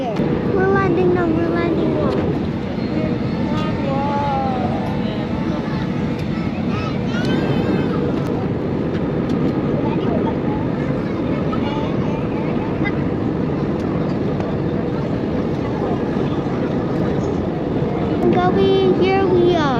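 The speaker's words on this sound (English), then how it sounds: "We're landing now." Airliner landing on Langkawi island, heard from inside the cabin as a loud, steady roar of engines and rushing air, with passengers talking over it.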